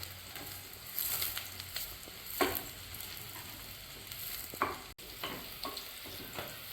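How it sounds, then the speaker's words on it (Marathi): Chilies and onions sizzle quietly in hot oil while mutton pickle is being made. A faint, continuous frying hiss is broken by a few soft scraping stir strokes. "त्या सुद्धा यामध्ये घालून चांगल्या परतून घ्यायच्या बाजून घ्यायच्या त्या तेलात"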